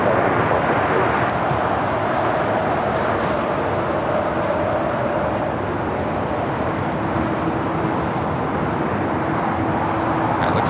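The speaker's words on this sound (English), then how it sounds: "That is Alaska Flight 1143 coming in from Portland, a 737-900ER." Alaska Airlines Boeing 737-900ER arriving at LAX, a steady broadband jet roar held at a constant loud level throughout, with a faint engine whine riding on top.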